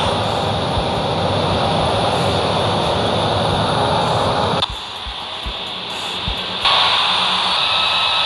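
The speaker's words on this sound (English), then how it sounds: "ready for takeoff runway 10." Jet airliner engines roaring loudly and steadily as an airplane takes off from a snowy airport runway, a continuous broadband rumble that briefly dips and then swells again.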